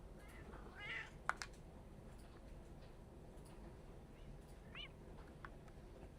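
A cat in the video game Moonlight Peaks meows a few times, faint short calls over a quiet low background hum, with no one talking.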